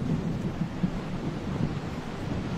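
Rain and a thunderstorm in a movie scene: a dense, steady wash of rain with low rumbling throughout, loud and continuous, with no voices.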